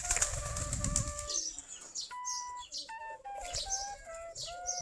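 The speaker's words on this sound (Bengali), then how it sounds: "আমাদের দেশি গিরিবাজ কবুতর দেখেন যে সবগুলা কূপের কাছে চলে আসছে" Deshi giribaj pigeons gathering at a feeding and drinking spot: a burst of wing flapping opens, followed by clear, close chirps and whistled calls repeating in short phrases with occasional soft coos.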